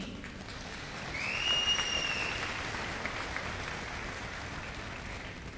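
Audience at a university commencement applauds MBA degree recipients, a broad steady patter of clapping from a large hall that swells slightly and carries on, with a faint whistle-like tone rising partway through.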